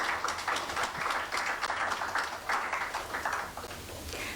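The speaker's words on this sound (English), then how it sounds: "Can we have a clap for that?" Applause from an audience, a soft continuous patter of many hands heard at a distance, steady and fairly faint, with no voices over it.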